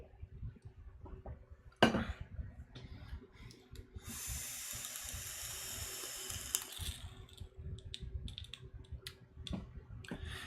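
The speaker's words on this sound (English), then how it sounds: "It's still crackling, which means to me either it's flooding or there's still water on the coils." A vape atomizer on a 25mm Osiris tank crackles and hisses as water sits on the wet coils. The sputtering sizzle is close and quiet, with a sharp click near the start.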